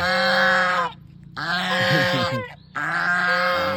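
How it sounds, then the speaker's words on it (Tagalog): Loud, harsh honking calls from a goose come in long bursts with short pauses between, sounding close and strident. "Gansa yan, gansa."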